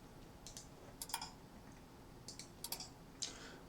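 Faint, close clicks from a computer mouse used to right-click and copy data in an Excel spreadsheet, coming as scattered single and double taps over quiet room noise.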